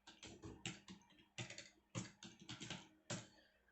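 Rapid typing on a computer keyboard while entering VBA macro code in Excel. The keystrokes are close and crisp, falling in quick irregular bursts with short pauses between them, and there is no talk.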